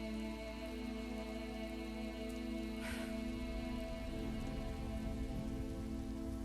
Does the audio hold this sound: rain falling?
yes